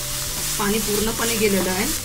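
Tomato chutney with a cumin tempering sizzles as it is stirred in a pan, a low, steady frying hiss with spoon scrapes, while someone talks over it.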